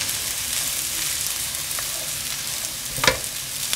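Onion, garlic and siomai sauté in a pan with a steady broadband sizzle, a few sharp spatters and a louder burst of stirring near the end, close and without talk.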